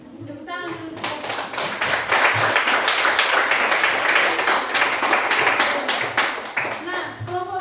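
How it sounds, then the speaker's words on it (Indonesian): Schoolchildren in a classroom clap together after a group presentation, a loud, close burst of rapid hand claps swelling after a brief voice and fading near the end, with a voice faintly at the edges. "Tepuk tangan dulu."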